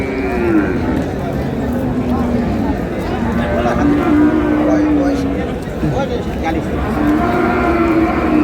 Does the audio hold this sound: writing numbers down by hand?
no